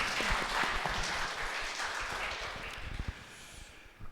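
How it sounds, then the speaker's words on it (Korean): A congregation at a Korean Sunday church service claps to welcome newcomers, giving a dense, steady round of applause that fills the room and tapers off near the end with no talking over it. "박수로 환영할까요?"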